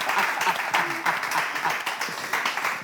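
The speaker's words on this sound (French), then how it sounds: "Applaudissez pour Cana." An audience claps for a guest on a talk show, a fairly loud burst of applause with a voice talking faintly underneath.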